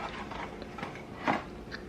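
Soft, quiet bites and muffled chewing of something tender, a few gentle mouth sounds up close with no crunch.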